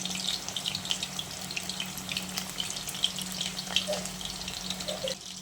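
Chicken lollipops frying in hot oil, a continuous close bubbling sizzle with fine crackles and a steady low hum underneath, no talking.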